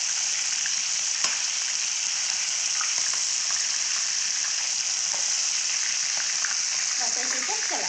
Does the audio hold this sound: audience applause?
no